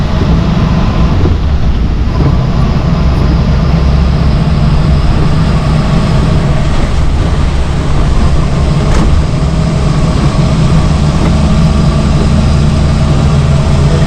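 A 1989 Maruti Gypsy's engine drones steadily and loudly while driving a wet monsoon mountain road from Sundernagar to Shimla, a close, unbroken low-pitched hum with a constant level throughout.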